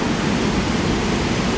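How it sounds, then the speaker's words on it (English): A waterfall on a river in rainy Pontypridd roars as a loud, dense, unbroken wash of noise, close and constant, with no voices. "A waterfall there."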